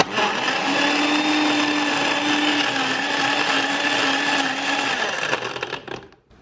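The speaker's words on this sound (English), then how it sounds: "So I'm literally just going to blend that all up" A blender whirs steadily for about five seconds, crushing protein powder, PB2, banana, ice and almond milk, loud and close, then cuts off and winds down in the last second.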